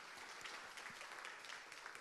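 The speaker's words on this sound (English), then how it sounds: "let's give a round of applause for Salil." An audience at a democracy and public-sector leadership talk gives a speaker a round of applause, with continuous, even clapping that is faint and distant and carries no pauses.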